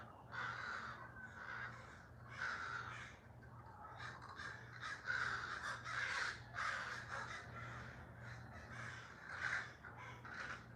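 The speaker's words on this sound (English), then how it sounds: "These crows are having a blast." Crows cawing in repeated hoarse bursts, several calls overlapping at moderate distance, fairly faint against a low steady hum.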